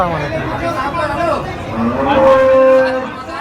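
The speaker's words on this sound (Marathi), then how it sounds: "एक शेतकरीची गाय आलेली आहे" A cow moos loudly and close at a cattle market in Dhule, with a long drawn-out call midway over a steady murmur of crowd chatter and livestock.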